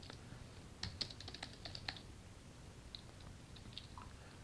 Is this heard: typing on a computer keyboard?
yes